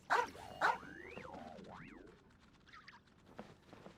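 Dog barking in Genshin Impact: two sharp close barks, then sliding boing-like tones and a faint whimpering yip, with no talking.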